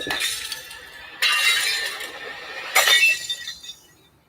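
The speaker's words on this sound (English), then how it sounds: "One by one, the pictures fell to the floor, smashing the frames." Picture frames drop to the floor and their glass smashes in three separate bursts of bright shattering and clinking, each trailing off into tinkling debris, loud and close with no voices.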